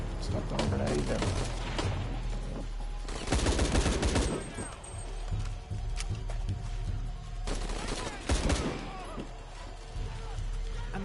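Video game gunfire in Shadow of the Tomb Raider, repeated bursts of shots and booms in two heavy clusters amid fainter scattered shooting and ambient game noise, with a voice talking in the background.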